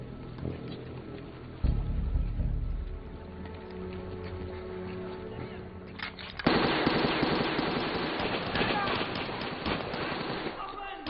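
Machine-gun and rifle fire rattle in a World War II film battle against Nazi troops, building into loud, dense bursts in the second half while a narrator's voice continues over the scene.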